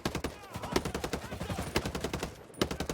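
Rapid assault rifle fire in Ghost Recon Breakpoint, steady fast bursts of sharp shots with a few brief pauses, moderately loud and close, with little else behind it.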